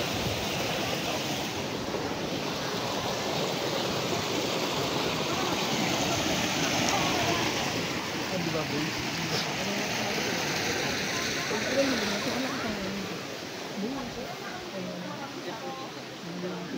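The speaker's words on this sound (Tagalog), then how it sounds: "Yan ang mini falls, diba?" Steady rushing and splashing of water from a small mini waterfall at a hot spring resort in Calauan, Laguna, a continuous broadband wash that fills the whole scene, with a voice speaking faintly beneath it.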